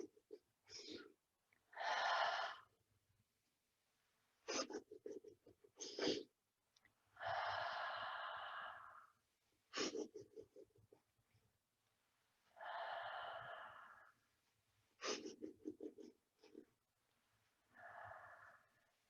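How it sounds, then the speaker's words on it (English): Kapalabhati staccato breathing: a series of short, sharp nasal breath bursts alternating with longer rushing breaths, repeated rhythmically, close but soft, with no talk. "One way to help wake up in the morning with breathing is Kapalabhati, or what my Qigong teacher calls staccato breathing."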